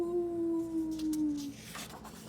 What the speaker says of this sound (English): now the strength of that ancient bond brings the pack howling from the woods with a warning